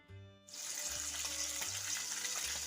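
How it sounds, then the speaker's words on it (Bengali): Pabda fish laid into a hot frying pan burst into a loud, close sizzle that starts abruptly after a brief quiet moment and holds steady, with faint clinks underneath. "এখন আমি ফ্রাইং প্যানে মাছগুলো দিয়ে দিব এবং হালকা করে আমি ভেজে নিব"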